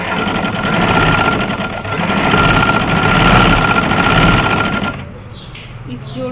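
A sewing machine runs in a fast, steady rhythmic chatter while stitching the seam of an Irani chaddar, then stops abruptly, leaving a quieter tail.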